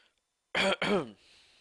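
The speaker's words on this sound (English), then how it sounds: "I've got a terrible cough coming on." Two quick, harsh throat-clearing coughs up close, back to back, followed by quiet room noise.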